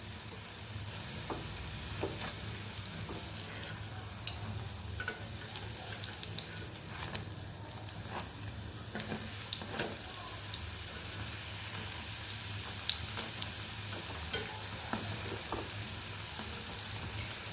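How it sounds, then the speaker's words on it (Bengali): Chana dal fritters (bora) sizzle steadily in hot oil over medium heat, a continuous close frying hiss with small crackles and pops throughout and no voices. "এভাবেই আমি প্রত্যেকটা বড়া ভেজে নেব।"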